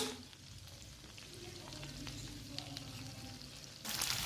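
Onions sizzle faintly in a hot pan as a soft, steady frying hiss, low in level and continuous, with a brief louder burst near the end.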